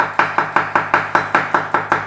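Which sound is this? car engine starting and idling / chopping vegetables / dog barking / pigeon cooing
chopping vegetables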